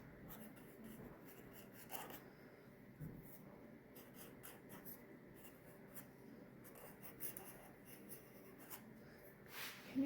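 Pencil or crayon drawing soft fur on paper, a steady faint scratchy rubbing with short strokes throughout, close and quiet with no talking.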